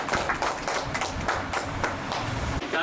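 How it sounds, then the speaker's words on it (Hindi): Applause at a leaders' meeting comes as uneven, fairly loud hand claps from a modest group, rippling irregularly and continuing steadily throughout with no speech. "एक बार जोरदार तालियां"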